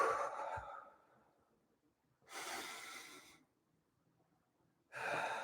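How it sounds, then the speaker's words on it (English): Deep breaths during a calming exercise: a soft exhale, then two strong, airy breaths separated by quiet pauses, close to the microphone with no talking. "just take a couple of deep breaths and focus on the breathing"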